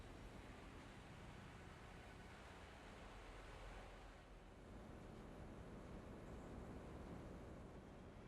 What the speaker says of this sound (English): Let's go to drone noises.